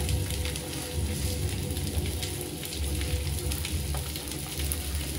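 Edible gum (dink) frying in hot oil for laddoos, a steady dense sizzle and crackle with fine popping throughout, close and continuous with no talking.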